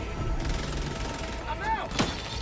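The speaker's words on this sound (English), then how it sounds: "Reloading." Weapon reload in Helldivers 2, a quick mechanical clack and ratchet over busy game noise, with distant gunfire and a sharp metallic snap near the end; someone speaks briefly.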